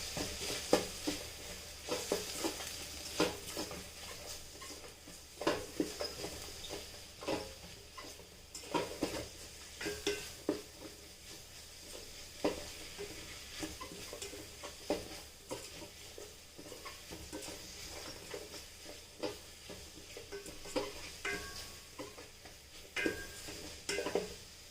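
A spoon stirs chopped vegetables with coriander powder, salt and garam masala in the pot of an electric cooker, giving soft scraping and clinking strokes in an irregular rhythm over a faint, low sizzle, close and fairly quiet with no talk.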